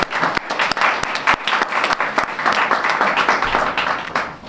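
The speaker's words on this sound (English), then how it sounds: "I would ask that you applaud that at this time" An audience at a government event on reducing homelessness breaks into dense, loud applause, with many hands clapping continuously for several seconds close to the microphone.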